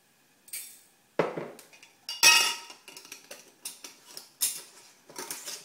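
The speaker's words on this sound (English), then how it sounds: "So I'm just gonna take a spoon." A spoon clinks and scrapes against a dish in a kitchen, with a string of short, sharp taps and scrapes spread irregularly across the clip and nothing else heard.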